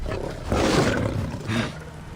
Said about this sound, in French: On va libérer les lions.